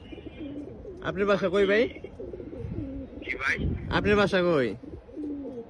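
Pet pigeon cooing from Narayanganj, soft throaty coos mixed with a few bird calls, heard close by beneath and between a man's conversational speech.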